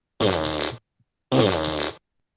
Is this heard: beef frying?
no